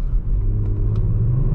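A 2019 Kia Stinger GT AWD's engine gives a deep, steady rumble while driving, loud and close inside the cabin, with a faint higher whine riding above the low drone.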